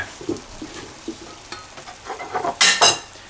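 Beef with red chili stir-fried in a pan: a spatula scrapes and knocks in an irregular rhythm, building to two loud bursts of sizzling near the end.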